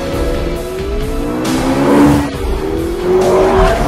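McLaren P1 hybrid supercar in Forza Motorsport 5, its engine loud and rising in pitch as it accelerates, with tire squeal and a brief dip between pulls.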